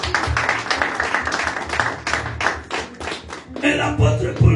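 A church congregation claps and cheers in praise of the Lord, a dense, steady wash of hand claps with voices mixed in, fairly loud and continuous throughout.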